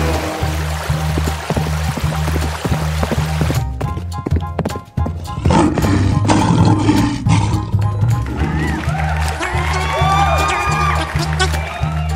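A lion roars in a children's animated animal cartoon, loud and close, amid clip-clopping hooves and other busy cartoon sound effects.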